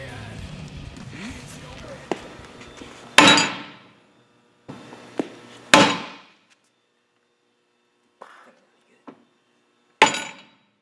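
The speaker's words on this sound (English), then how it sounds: "we had to resort to our 20-pound hammer in order to get it in the rest of the way" A 20-pound hammer drives a bushing into place with several heavy metallic strikes, each ringing briefly before fading, spaced a few seconds apart, close by, with quieter taps between and faint talk early on.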